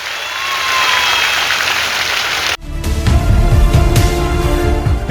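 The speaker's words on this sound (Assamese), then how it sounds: "এটা ডাঙৰ হাত চাপৰি বজাওক" Loud applause from a rally crowd at an election campaign event, a dense, sustained clapping roar that cuts in abruptly halfway through and holds steady to the end.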